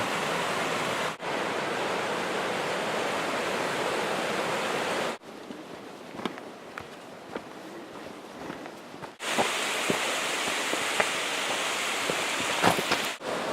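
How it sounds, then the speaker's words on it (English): The Big Quilcene River rushes steadily nearby, a constant broadband roar of flowing water with occasional splashes and drips, shifting slightly in intensity. "I like the sound of the river."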